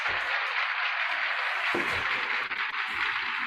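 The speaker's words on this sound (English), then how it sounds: "sometimes I'll also add little applause transitions that look like this" Applause sound effect used as a transition in a virtual meeting, a steady wash of many hands clapping at even loudness with no speech.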